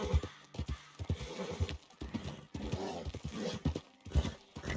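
A horse in Red Dead Redemption 2 runs out of breath, giving rhythmic, close, heavy pulses of hoofbeats and panting that repeat for several seconds.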